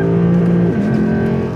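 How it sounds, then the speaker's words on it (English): A Lexus engine bouncing off the rev limiter, a loud, close, sustained high-rpm drone that wavers and stutters slightly as the limiter cuts in, with no talking. "And listen to the rev limiter."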